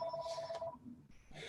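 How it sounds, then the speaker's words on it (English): A telephone rings softly in the background of an indoor room, a steady electronic tone that cuts off partway through, with no voices over it. "it's a phone ringing here in my background"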